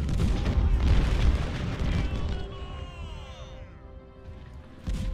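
Civil War cannon artillery in the strategy game Ultimate General Civil War booms repeatedly in heavy, overlapping blasts, then fades into a ringing, sweeping tail before another thud at the end.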